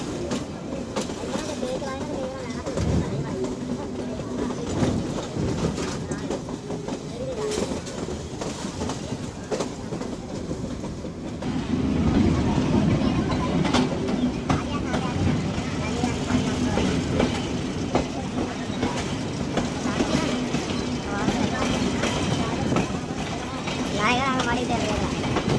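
A Pakistan Railway Miyanwali Express, train 147UP, runs steadily at night, with a continuous rumble and clickety-clack of the cars that grows louder about halfway through. Voices can be heard under the train noise.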